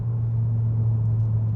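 Stage 3 VW Golf MK8 GTI engine pulling under heavier throttle after a downshift, a steady, loud low drone heard from inside the car with no talk over it.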